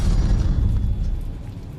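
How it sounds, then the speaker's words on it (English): Explosion in the Guarding the Galaxy video game, a deep rumbling boom that fills the low end and slowly decays over under two seconds. "what did you make of the explosion back there?"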